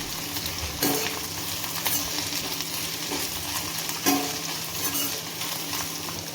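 Okra frying in a pan with chana dal, cumin and mustard seeds added, stirred through with a steady close sizzle and two sharper scraping stirs, no talking.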